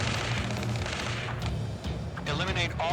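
Heavy gunfire and artillery-like booms in the Ace Combat 7 game, dense and loud throughout, with radio chatter voices over the barrage.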